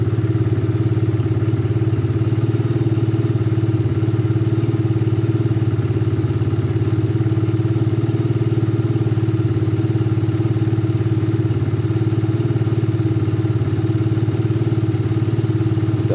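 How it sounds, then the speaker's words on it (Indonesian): A Suzuki Satria FU 150 motorcycle idles steadily at low throttle to warm up, a loud, constant close-up engine hum with a faint mechanical clatter throughout. "tidak boleh digas tinggi langsung ya teman-teman minimal gas rendah satu menit teman-teman agar oli bisa naik"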